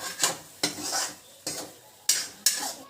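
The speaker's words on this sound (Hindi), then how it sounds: "अब चम्मच चला दे वो थोड़ा अच्छे से।" A spoon scrapes and stirs egg curry around a pan in about five distinct sweeping strokes, each a close, gritty rasp with a faint sizzle underneath.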